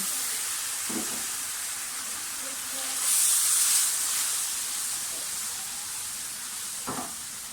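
Sugar syrup poured into hot semolina halwa in a pan, a broad steady hiss that swells into a sharper burst of sizzling midway, with a few soft knocks of a spoon, fairly faint and close.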